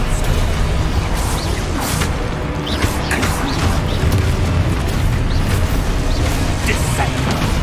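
Depulso spell being cast in the Hogwarts Legacy video game, a run of whooshing blasts and thumping impacts over a dense, continuous wash of game noise and music.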